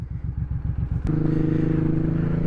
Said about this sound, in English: This bike, however, is a very smooth running bike.